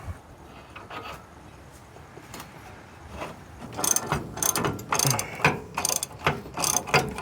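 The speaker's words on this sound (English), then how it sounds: "we're going to do one side at a time using a 21mm socket wrench" Hand ratchet with a 21mm socket clicking on a trailer hitch bracket of a 2009-2014 Ford F150 during a rear bumper install: quiet at first, then loud, close bursts of rapid pawl clicks.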